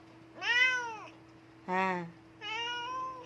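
Cats meowing indoors, three distinct close meows in a row, each rising and falling, over a low steady background hum.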